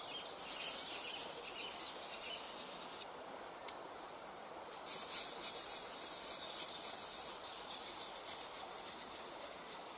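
Outdoors, a utility knife is sharpened with a steady, continuous rasping and rubbing of steel on a stone, close and even for the whole stretch, with a short pause midway before the strokes resume.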